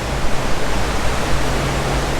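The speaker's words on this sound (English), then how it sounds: "And that's our wake." Water churning in the wake behind the stern of the cruise ship Eurodam, a constant dense rushing hiss with low rumble, steady and close throughout, with no talking.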